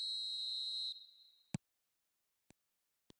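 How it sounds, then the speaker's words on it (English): Referee whistle in the eFootball video game: one long shrill blast, followed by a few sharp short clicks, clean and isolated with no voices. "There's the whistle."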